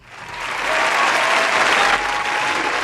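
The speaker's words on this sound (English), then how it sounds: "that's your applause right there" Audience applause at a live Trinidad and Tobago Coast Guard and Air Guard event, a dense, loud wash of many hands clapping that swells within the first second and holds steady to the end.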